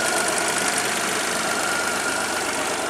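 A 1997 Geo Metro's Suzuki-built 1.0-liter, 55-horsepower three-cylinder engine idles after a cold start with 156K miles on it, a steady close-up chugging thrum with a fine rhythmic pulse and a rough, uneven edge throughout.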